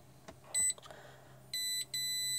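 A multimeter in continuity mode probing a bench power supply's outputs gives three short, sharp, high beeps against quiet background clicks, with no talking.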